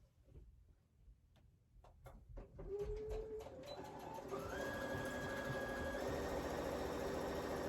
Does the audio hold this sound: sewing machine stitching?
yes